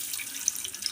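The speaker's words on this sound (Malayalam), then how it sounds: "മുളക് പൊടി ഇട്ട് കഴിയുമ്പോൾ തന്നെ വെള്ളം ഒഴിച്ച് കൊടുക്കുക." Water poured into a pan of chilli powder for a mango curry, a steady soft hiss of running liquid with faint bright splashy flecks, close and alone.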